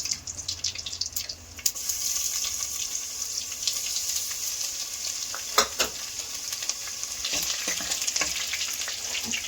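Four dried red chillies and three garlic cloves frying in hot oil, a steady close sizzle with occasional crackles and pops, no voices.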